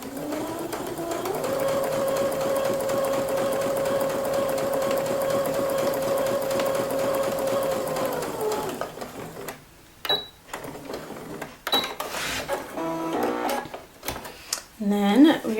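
A sewing machine running a straight stitch seam whirs steadily for about eight seconds, then stops; a few clicks and handling knocks follow, with brief speech near the end.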